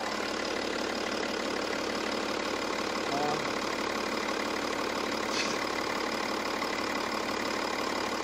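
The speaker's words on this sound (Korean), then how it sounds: "엔진 소리 한번 들려드릴게요" A diesel engine in a large four-wheel-drive imported sedan idles with the air conditioning on, a steady even hum throughout, a constant low mechanical drone with no change in pitch or rhythm.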